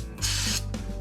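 Carburetor parts cleaner sprays in two short bursts from an aerosol can around a car engine during a power steering fluid change. Each close hiss lasts about half a second, with a brief pause between them.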